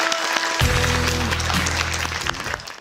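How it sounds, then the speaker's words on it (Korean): Studio audience applause on a Korean high school quiz show as an eliminated team exits, broad clapping with a loud musical sting of sustained tones entering partway through and ringing beneath it. "여러분 위로의 박수 부탁드립니다."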